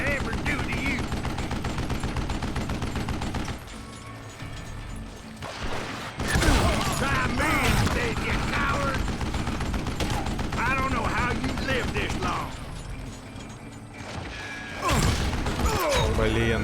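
Gunfire from the Western shooter video game Call of Juarez: Gunslinger, with repeated sharp shots and rapid bursts over a steady game soundscape, broken by a few quieter pauses.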